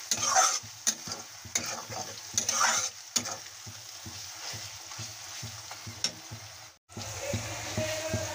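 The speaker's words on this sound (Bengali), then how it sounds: "মশলাটা ভালোভাবে কষিয়ে নেব।" Ground spices (coriander, turmeric, salt) sizzle in a pan for a chicken curry while a spoon scrapes and stirs in steady strokes, the frying hiss continuing after a short silent break.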